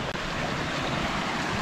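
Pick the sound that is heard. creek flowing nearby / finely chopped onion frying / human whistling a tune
creek flowing nearby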